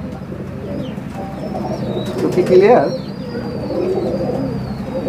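Cooing of a Teddy high-flyer pigeon held close, soft murmuring calls under a voice speaking nearby.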